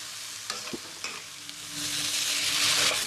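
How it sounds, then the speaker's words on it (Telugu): Grated radish fries with turmeric in a hot pan, giving a soft sizzle with a few scraping stirs early on, then a louder, steady frying hiss that swells through the second half. "పసుపు వేసుకొని దీన్ని ఒక 2 to 3 minutes అయితే ఫ్రై చేసుకున్నాం"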